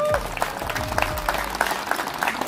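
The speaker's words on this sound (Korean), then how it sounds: "박수 한번 쳐주세요" Audience applause at a football association officials' tournament ceremony in Hwaseong, scattered claps heard under ongoing voices and background talk, with distinct individual claps punctuating the mix.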